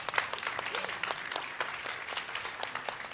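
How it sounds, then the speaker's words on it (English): Audience applause at a Mercedes-Benz CES 2024 presentation, a dense steady clapping from a large crowd that fills the hall for a few seconds without talk. "A big round of applause for Marcus Schaefer."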